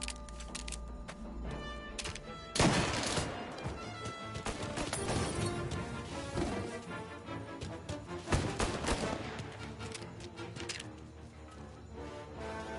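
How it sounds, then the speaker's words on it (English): Gunfire in the video game Mafia Definitive Edition: scattered sharp shots and a couple of heavier bursts over a continuous busy game soundtrack, with no voices. "Reports of gunshots rolling in."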